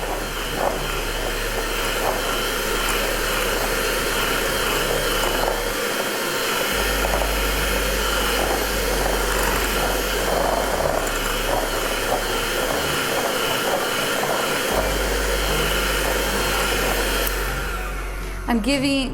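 Stand mixer running on low speed, mixing thick pumpkin donut batter: a steady, close motor whir with a deep hum, continuous for the full stretch with slight dips in pitch before it stops at the end.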